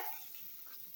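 Onions fry with four green chilies in oil while a spoon stirs them in the pan, giving a faint, soft sizzle and brief scraping for a moment.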